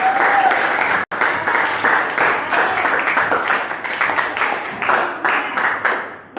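A classroom of students applauds all the groups after their presentations, a dense burst of clapping that briefly cuts out, then resumes in uneven waves and tapers into scattered claps.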